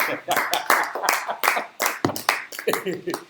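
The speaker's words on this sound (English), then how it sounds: "Let me hear the clapping." A small group claps in short bursts for a Lightroom watermark tutorial session, the handclaps close and uneven, with voices talking over them.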